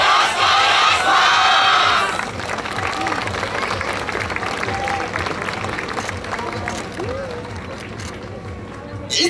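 A large outdoor crowd cheers and claps loudly at a yosakoi dance stage at the Kyoto Sakura Yosakoi festival, with a burst of shouting at the start that settles into a steady roar.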